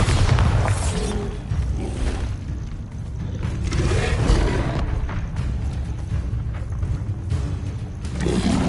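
Bombarda explosion spell cast in the Hogwarts Legacy video game, with booming blasts and rumbling bursts amid dense, loud combat noise that runs throughout.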